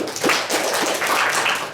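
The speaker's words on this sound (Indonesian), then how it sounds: "Tepuk tangan dulu dong" A classroom of students claps hands together in a short burst of rapid overlapping applause, steady and fairly loud, with no talking over it.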